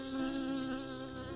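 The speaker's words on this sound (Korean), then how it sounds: "여러 곤충의 윙윙거림과 찌르르 소리만이 후덥지근한 여름밤을 채우는 건 아니다" Insects buzz on a humid summer night, a steady, close droning whine with a thin, mosquito-like tone that holds without a break.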